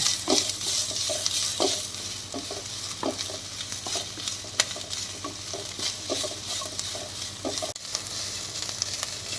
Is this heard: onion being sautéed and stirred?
yes